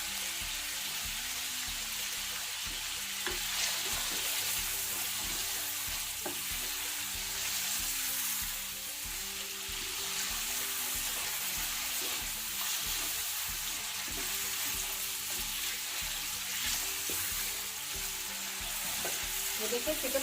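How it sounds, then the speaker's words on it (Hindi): Chicken sizzles and fries steadily in a pan for pulao, a continuous close hiss with occasional stirring, no talk over it. "ये देखिए, चिकन फ्राई करते हुए मुझे 8 से 10 मिनट हो चुके हैं।"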